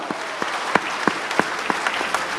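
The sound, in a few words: applause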